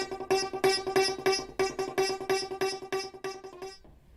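Long piano strings stretched across a 20-foot welded frame are struck in a steady series of about a dozen resonant, metallic plucks, each ringing with rich overtones before the run stops and fades.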